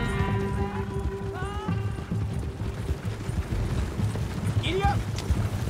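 Horse hooves clop in a quick galloping rhythm in Red Dead Redemption 2, running steadily under shouted voices, with a brief whinny-like call near the end.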